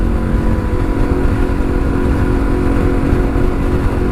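A motorcycle engine drones loud and steady while riding, its low rumble holding an even pitch without pauses and heard close to the rider with no talk over it.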